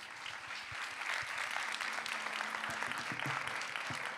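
An audience at a French talk on creative artificial intelligence claps for Agathe. The applause is moderate and fairly even, with a few sharper individual claps standing out from the steady patter.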